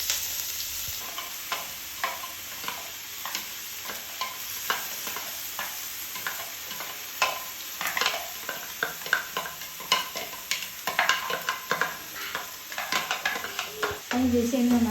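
Egg bhurji ingredients sautéed in a pan, made without tomato, give a steady low sizzle with frequent spatula scrapes and stirring clatter throughout, rising a little louder toward the end, with a voice heard faintly in the background.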